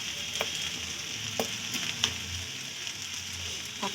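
Noodles mixed with chili sauce in a frying pan, a soft steady sizzle broken by several scraping, clattering spoon strokes at irregular intervals, close and fairly quiet.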